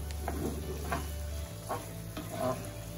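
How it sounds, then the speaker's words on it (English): Cooked sausages and courgettes sizzle in a pan for a pasta dish, a steady close frying hiss broken by a few scraping stirs, with a low hum that drops away midway. "i place the cooked sausages together with the courgettes in the pan"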